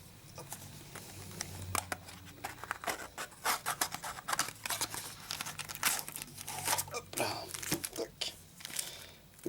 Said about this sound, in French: Et c'est parti pour le déboîtage.